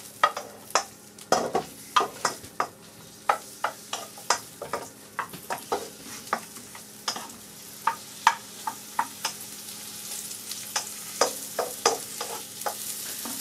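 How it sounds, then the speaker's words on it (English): Sliced mushrooms frying in a bit of hot oil, a steady close sizzle broken by many irregular sharp pops and spatters throughout. "we just cut your mushrooms like this in a bit of oil"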